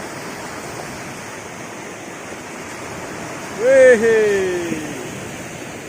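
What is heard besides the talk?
sea waves on a beach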